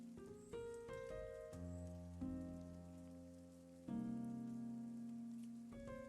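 Rain card effect in the mobile game South Park: Phone Destroyer, a patter of rain layered with bright chiming tones that shift in steps, steady and close with no talking.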